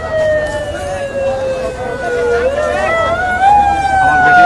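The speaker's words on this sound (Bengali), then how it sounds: "সাইড সাইড অ্যাম্বুলেন্স যাইতে দে ভাই অ্যাম্বুলেন্স যাইতে দে" An ambulance siren wails loudly and close as the vehicle pushes through a crowd near a college during street unrest, its rising and falling tones steady over traffic noise.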